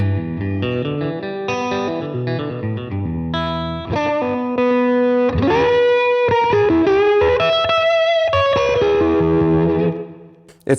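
Electric slide guitar with all three pickups on, played alone with a glassy yet punchy tone through a REVV amp, steady notes and chords ringing out with a touch of effect, loud and close.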